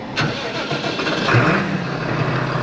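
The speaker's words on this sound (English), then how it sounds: "I'm just going to let the tractor warm up for a little while." A farm tractor's diesel engine cranks and catches after a short sharp transient, settling into a steady low rumbling idle that stays loud and continuous.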